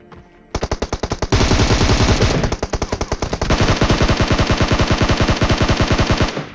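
Rapid automatic gunfire from a shooting video game, loud, continuous bursts of rattling shots with a brief change in tone partway, no voices over it.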